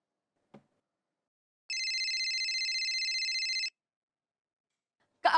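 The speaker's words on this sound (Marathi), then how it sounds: "काका फोन वाजतोय तुझा" A phone rings electronically for about two seconds, a clear warbling trill, with a faint click before and a brief noise at the end.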